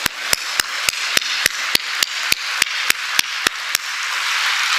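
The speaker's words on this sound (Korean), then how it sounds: "박수 확실하게 칩시다." A church congregation claps together in a firm, steady unison rhythm: about a dozen sharp, evenly spaced claps over a roomy background hiss, then the clapping stops.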